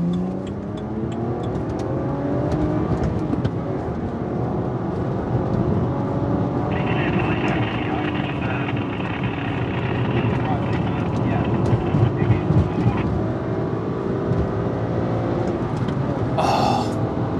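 BMW Z4 engine, E86 coupe or E89 convertible with 204 horsepower, heard from on board as the car drives and accelerates, a steady loud drone rising and falling in pitch, with wind noise throughout.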